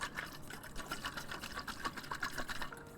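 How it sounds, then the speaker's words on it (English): Water sloshing inside a handheld water bottle as it is shaken, a steady run of soft liquid swishes and gurgles, close and continuous, with no talk. "That's the water moving around in there."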